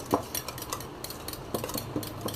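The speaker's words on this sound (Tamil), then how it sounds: "இப்போ விஸ்க் வச்சு நல்லா வந்து கலக்கிக்கோங்க." Egg, onion and soya chunk omelette mixture being whisked in a bowl, with quick irregular clinks and scraping taps of the whisk against the side, close and moderately loud, without talking.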